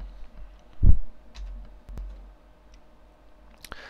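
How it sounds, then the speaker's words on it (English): A single soft mouse click on a feedback button on eBay, close and quiet against a faint room hum, followed by a few fainter ticks. "all you need to do is click on this feedback button"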